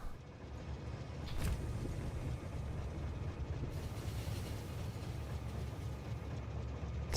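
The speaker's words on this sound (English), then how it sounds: "So let's ride the train, see what it does." A train in the game Factorio rolls steadily along in a continuous low rumble with a faint hiss, no voices over it.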